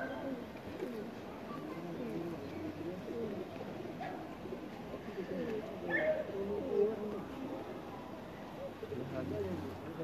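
Pet pigeons, including a brown-eyed one, coo in soft, repeated throaty rolls nearby while someone talks over them, with a brief louder call partway through.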